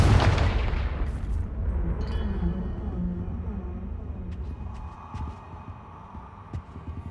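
A Confringo blasting spell goes off in Hogwarts Legacy with a loud, sharp burst at the start, followed by a deep rumbling tail that slowly fades over several seconds.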